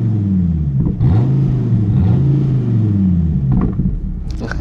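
A Dodge Viper ACR V10 engine revs up and down in deep, throaty swells, its pitch rising and falling several times, loud and close.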